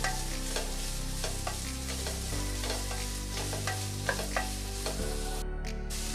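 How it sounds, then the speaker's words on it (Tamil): Onions sautéing in a pan for potato spring rolls, stirred repeatedly with a spoon: a steady soft sizzle under a string of scraping strokes, close and moderately loud, with no voices. "வெங்காயம் வதங்கட்டுங்க."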